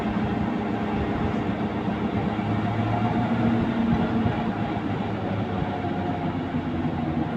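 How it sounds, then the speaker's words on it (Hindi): Car driving with a worn rear wheel bearing, a continuous low rumbling drone and whir heard from inside the cabin with the window down, steady throughout with no speech. "ये तो साउंड जो है बैरिंग का ही है"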